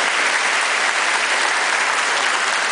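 Steady, dense applause from an audience filling an amphitheatre at an award ceremony, close and sustained throughout with no voices over it.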